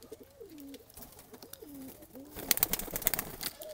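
Tula pigeons coo in three soft, rolling, downward-bending calls, close and fairly quiet, before a burst of fluttering, scuffling clatter takes over.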